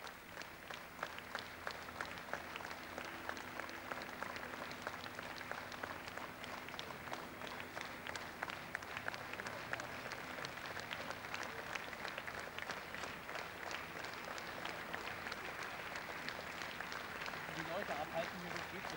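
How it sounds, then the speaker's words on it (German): A large crowd at Willy Millowitsch's funeral applauds in a sustained, even wash of clapping heard from a slight distance, with a voice speaking over it. "Wir lassen diesen Applaus auf uns wirken."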